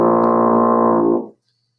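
A single very low tuba note is played with the cheeks puffed out, a steady buzzy drone held for just over a second before it stops abruptly into silence.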